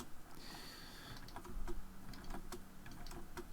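Quiet, fast keystrokes tap on a computer keyboard during a session of the strategy game Endgame: Singularity, an irregular run of light clicks with brief pauses, faint and close-miked against soft room noise.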